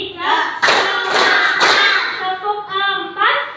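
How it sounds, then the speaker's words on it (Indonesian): Rhythmic hand claps from a children's concentration clapping game in a classroom, a few sharp claps sounding close and mixed under a speaking voice. "Tepuk konsentrasi ini Ibu contohin ya."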